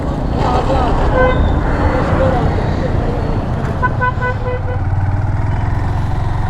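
A motorcycle rides along a road toward Rangamati Sadar, its engine drone and road noise constant and close, with brief horn toots; someone talks over it throughout.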